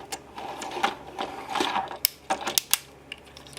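Plastic parts of a Tomica Master Back Draft Mk III toy robot click and snap during transformation, a quick run of close, sharp ratcheting clicks in irregular bursts with a few louder snaps near the end.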